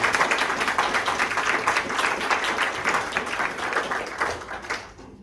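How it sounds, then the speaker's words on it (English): Audience applause welcoming a guest speaker at a talk, a dense steady wash of clapping from a roomful of people that keeps going throughout and starts thinning at the very end. "Can you give Simon a round of applause to welcome him?"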